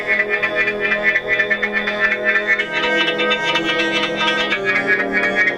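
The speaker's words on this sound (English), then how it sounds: "So let's play some music." Music plays through the stereo speakers of an iPhone 12 mini, a continuous bright, mid-heavy mix with a steady pulse and slightly thin, boxy tone, moderately loud and uninterrupted by talk.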